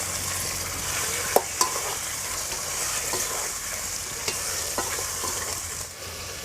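Half a kilo of chicken sautéed with softened onions in a pan for a village-style gravy, giving a continuous close frying hiss and several quick spatula knocks and scrapes, with no talk.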